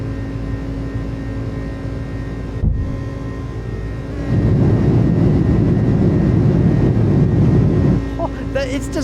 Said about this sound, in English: it's just the roar of the engine